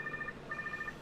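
A phone-like electronic ring sounds from inside a dinosaur in Jurassic World Evolution 2, heard as two bursts of steady, warbling tones separated by a short gap, moderately faint over a low background hum.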